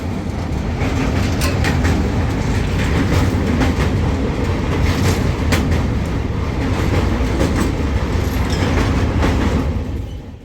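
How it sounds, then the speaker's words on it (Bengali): A passenger train pulls out of Malda Town station, its wheels rumbling and clattering steadily on the rails, loud and continuous throughout with sharp metallic clicks from the carriages. "মালদা থেকে আবারও ট্রেনটা ছেড়ে দিল"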